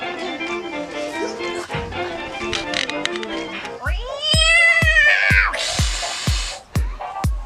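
A voice imitates a cat with drawn-out, wavering meows, preceded by chattering voices and accompanied by a regular thumping beat, close and fairly loud during a backyard kids' camp game.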